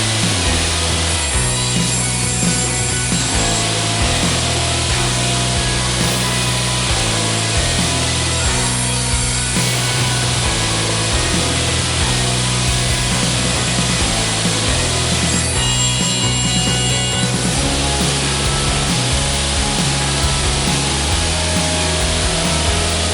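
Wood board being cut to size for a guest bathroom washstand, a loud, steady sawing roar that runs without pause, its tone shifting slightly as the blade works through the material, no voices.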